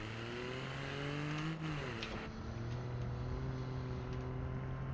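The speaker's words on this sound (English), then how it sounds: "What is your opinion on the sounding of the car, Sam?" A car engine in BeamNG.Drive revs steadily at high pitch, a sustained loud whine that dips briefly and climbs again, continuous and close with no voices.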